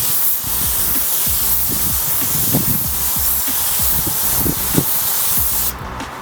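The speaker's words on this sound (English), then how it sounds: "we're gonna open the fan a little more. Okay, we're gonna shoot a light coat." A spray gun shoots a light clear coat with its fan opened wider, making a loud, continuous close hiss with faint rustle and no talking, ending abruptly near the end.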